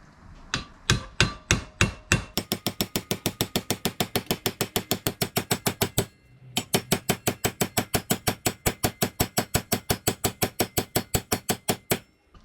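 Rapid, steady metallic hammer blows seat a steering bearing on a 2001 Honda CR250 motorcycle, a few slower strikes first, then a fast even run, a brief pause, and more pounding.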